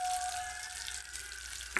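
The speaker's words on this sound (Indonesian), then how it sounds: "Kita goreng hingga matang ya." Omelette with turmeric leaves frying in hot oil, giving a steady broadband sizzle throughout, with a faint tonal whine early on and a brief clatter near the end.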